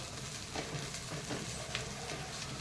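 Sweet corn frying with onions in butter in a pan gives a steady, close sizzle with a few soft stirring scrapes.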